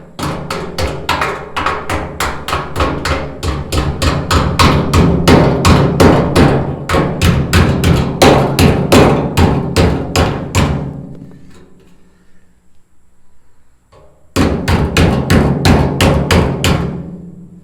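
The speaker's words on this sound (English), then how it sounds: "This is a body hammer, isn't it?" Rapid, loud metallic hammer blows from a body hammer straightening sheet metal on a 1970 Chevy C10, in quick steady bursts, pausing briefly before another fast run of ringing taps.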